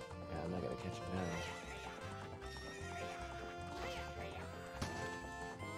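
A horse in the Ocarina of Time video game neighs and whinnies over rhythmic clip-clop hoofbeats, with game music and sound effects layered throughout.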